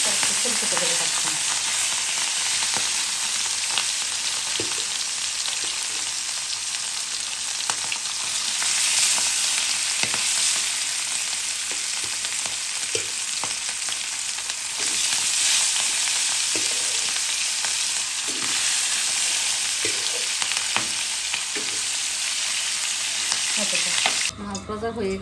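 Rohu fish pieces fry in hot oil in a pan with a loud, steady, dense sizzle and crackle, running continuously for about twenty-five seconds with little variation.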